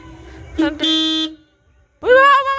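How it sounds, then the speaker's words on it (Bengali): Two loud, close car horn blasts, the first brief and the second longer, separated by a short silence, with a bit of voice just before. "হর্নে হাত দিচ্ছে"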